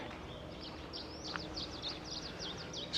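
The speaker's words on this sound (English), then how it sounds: "Quite a lot of parrots around here." Parrots in a park in Puerto de la Cruz, Tenerife, give a series of short, sharp, chirping calls at a distance over a low background hum.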